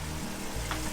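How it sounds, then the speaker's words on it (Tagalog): Dinuguan, a Filipino blood stew with bottle gourd, boils hard in a pot, giving a steady close bubbling and sizzling texture with no talking. "Kumukulo na po ng maigi."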